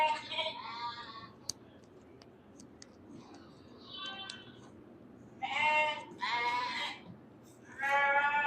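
Weaned lambs about five weeks old bleating on a sheep farm, several loud, wavering calls in short bursts and overlapping cries, with light clicks and quiet gaps between them.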